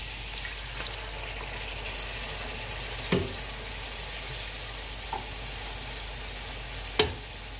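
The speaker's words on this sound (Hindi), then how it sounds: "1 मिनट के बाद इसमें हम 2 टेबलस्पून पानी डालेंगे।" Mutton biryani masala frying in a pan, with a steady soft sizzle throughout and a few faint clicks of stirring or the spoon against the pot; no voices.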